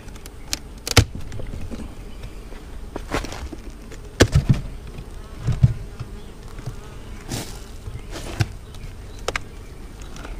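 Honey bees buzz around an opened hive in a small fall honey harvest, a steady low insect drone with scattered louder passes of bees flying near, plus a few soft knocks and handling bumps.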